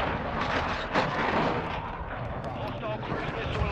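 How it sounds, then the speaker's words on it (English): A cruise missile strike in the video game Modern Warfare II, heavy booming blasts and dense rumbling explosions running continuously, loud and close, with some game voice underneath. "Hostile cruise missile incoming."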